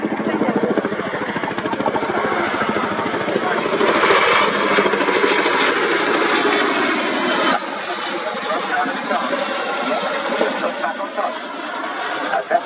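An RAF Chinook helicopter at an air show roars continuously with a dense rotor and engine drone, loud and close throughout; no distinct gunfire bursts from the ramp-mounted M60 stand out over the helicopter noise.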